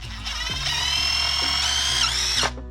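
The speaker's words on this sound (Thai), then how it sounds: "ครับเจาะเข้าไปเลยนะครับสองฝั่งนะครับทำเหมือนกันเนาะ" A power drill bores into a block wall to seat a door lintel support during bathroom construction, a steady high whine running for about two seconds close by, then cutting off abruptly.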